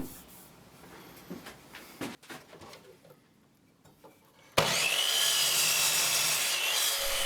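A walnut blank being cut down for a turned ring box in a woodshop: scattered quiet knocks and rubbing, then a loud power saw starts abruptly and runs steadily to the end.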